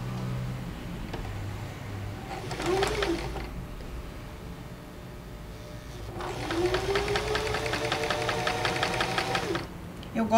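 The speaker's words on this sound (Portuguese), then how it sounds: "Eu gosto de costurar em bandeirinha, deixar as sem ficar arrematando, né? Ó, continuo costurando na sequência." A sewing machine stitches patchwork squares chain-style, running in two bursts, a short one and then a longer steady run, close and loud, with someone talking over the gaps.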